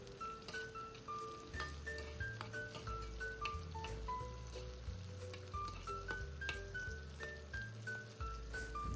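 Cashews, onion and green chilies frying in hot oil give a steady, close sizzle with crackles and pops throughout, and no talking over it.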